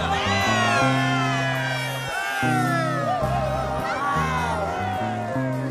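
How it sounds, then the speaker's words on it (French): A cartoon audience at a show introducing a performer named Mona Lethal cheers and whoops as a crowd, lively shouts mixed with music for several seconds. "je vous demande un tonnerre d'applaudissements pour Mona Lethal"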